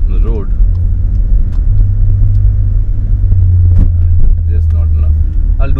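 Skoda Octavia RS245 on a Revo Stage 2 OPF map pulling hard under acceleration, a loud, steady low engine drone that climbs in pitch through the gear, with people talking over it inside the car.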